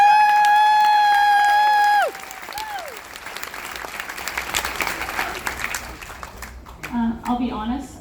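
A large crowd at a Trump Club 45 event cheers and applauds after music with sustained tones cuts off, the clapping building into a steady wash with scattered whoops and voices.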